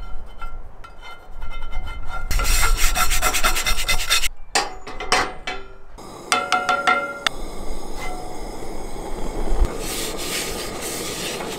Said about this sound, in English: Got myself this little scrubber. If you do have a cast iron, this is a game changer.